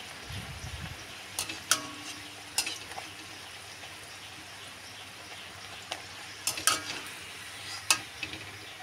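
Luchi or malpua frying in oil give a faint, soft sizzle, broken now and then by sharp utensil clicks and scrapes as the pieces are turned.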